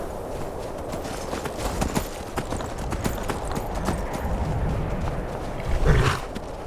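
Horse hooves clip-clop steadily in Skyrim Special Edition, a fast run of close, crisp hoof strikes over a rumbling game soundscape, with a heavier thump near the end.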